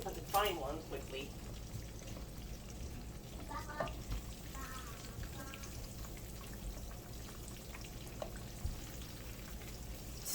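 Breaded pork chops frying in a pan give a low, steady sizzle and faint crackle throughout, with a few brief clinks and bits of talk rising over the frying.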